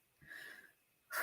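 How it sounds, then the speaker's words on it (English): A single deep breath drawn in with a soft, airy, slightly wheezy rush lasting about half a second, close and quiet, followed by a brief louder exhale or onset at the end. "let's take a breath"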